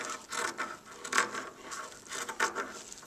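Fabric for a flower pillow is cut with scissors, giving soft, quiet snipping and rubbing swishes in irregular bursts, close up and with no talk.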